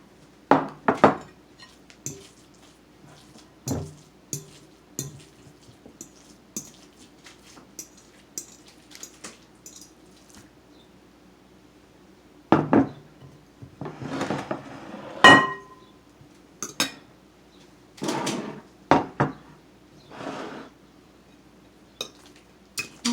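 Turkey meatloaf mixture being moved into a loaf pan, heard as scattered close clinks, scrapes and soft knocks of a utensil against the pan and bowl, irregular with quiet gaps between.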